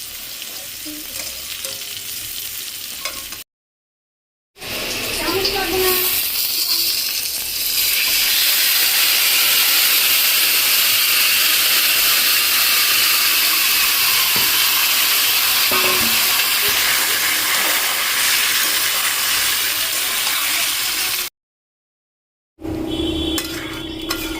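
Boiled potatoes fry in a wok with a loud, steady sizzle and hiss that runs on for many seconds, broken by a few short gaps and occasional stirring scrapes, close up with no talk.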